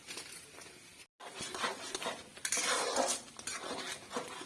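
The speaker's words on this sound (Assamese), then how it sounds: "লাৰি থাকিব লাগিব" Butter paneer being stirred in a pan, with a spoon scraping and clinking against the metal in uneven strokes, close and fairly loud, with a brief silent gap early on and no talking.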